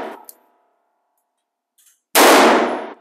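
A single loud, sharp blast from a Taurus Judge revolver firing a .410 shotshell, close by, with a brief decaying tail, preceded by faint mechanical clicks.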